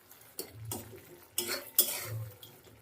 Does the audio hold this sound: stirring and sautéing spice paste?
yes